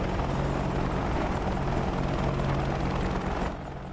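A Chinook twin-rotor helicopter in the flight simulator game DCS World roars steadily and loudly with a dense, constant rotor and engine drone, easing off slightly near the end.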